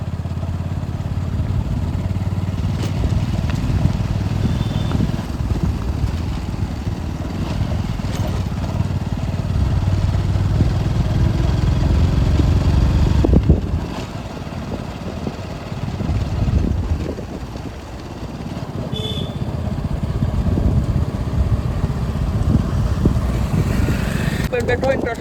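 A motorcycle engine runs with a steady, fairly close rumble that dips briefly midway and then returns, while voices are faintly heard around it.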